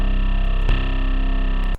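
A distorted fire drill 808 bass made in Serum holds a loud, sustained, heavily saturated low tone, with a brief click partway through, before cutting off abruptly.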